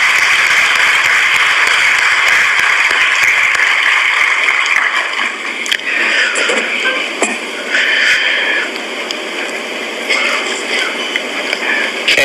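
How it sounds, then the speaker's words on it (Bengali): Audience applause at a Ramakrishna Mission lecture hall in Narendrapur, a dense, steady wash of many hands clapping that fills the space, then thins and softens slightly toward the end. "এটা আমার মনে হয় করতালি দিয়ে we should acknowledge this."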